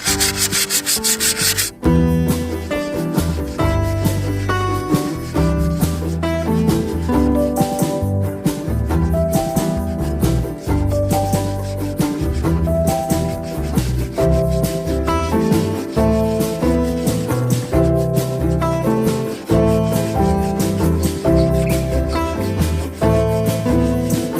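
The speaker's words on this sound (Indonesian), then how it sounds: "Oke, kita langsung gosok-gosok." Continuous rhythmic scraping of 150-grit sandpaper rubbed back and forth against the metal exhaust neck of a 2020 Honda BeAT, close and steady, with no voices.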